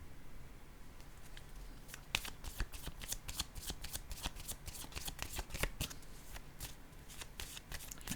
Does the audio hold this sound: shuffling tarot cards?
yes